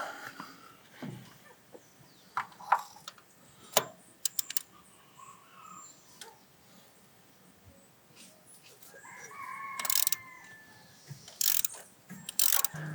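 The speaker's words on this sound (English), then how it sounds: "Now I'll take the spark plugs out." A ratchet clicking as spark plugs come out of a Mitsubishi Montero engine. Scattered sharp ratcheting clicks and metallic taps are fairly faint with quiet gaps between them.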